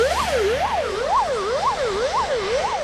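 An ambulance siren wails in quick, repeated rising and falling sweeps, loud and steady throughout, with no voices.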